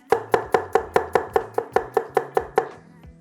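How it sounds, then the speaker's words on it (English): An ENOWO 8-inch Damascus chef knife chops through a tomato onto a board, about a dozen crisp, evenly spaced knocks in quick rhythm, close and alone, then a brief quiet tail. "Let's see how well it glides through this tomato."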